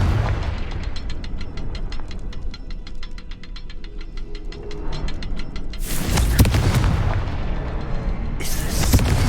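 A Confringo fire spell explodes in Hogwarts Legacy, two sharp loud bursts near the end following a stretch of rapid ticking, with no talk over them.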